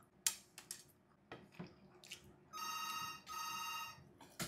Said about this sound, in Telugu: అప్పుడే ఫోన్ కూడా వచ్చేసింది